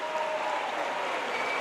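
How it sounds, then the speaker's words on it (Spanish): A studio audience applauds a child prodigy with steady, dense clapping that holds at an even level throughout the short burst, with no voices over it. "Fuerte el aplauso para este niño"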